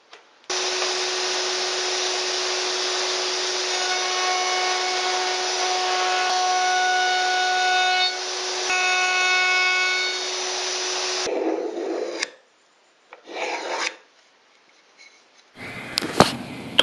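A power tool rounds over the outer edges of wooden uprights for a bathroom cabinet, a steady high whine running about eleven seconds, followed by a few short bursts and quiet gaps.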